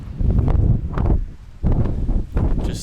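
Gusty wind in the Caucasus mountain village of Tianeti, Georgia, which is ringed by forested mountains. Loud, close buffeting bursts hit the microphone in uneven surges with short lulls between them, and no voices are heard.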